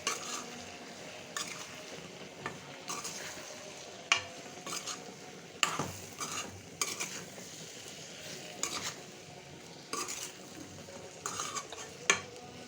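Mango pickle with salt, turmeric and chili powder being stirred in a pan over medium heat, a steady low sizzle under repeated scraping strokes and light metallic clinks of the spoon against the pan, recurring every second or so.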